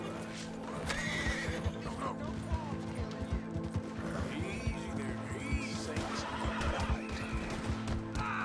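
Repeated horse whinnies ring out over a constant rhythmic clatter of galloping hooves, with a busy mechanical background throughout, in the video game Red Dead Redemption 2.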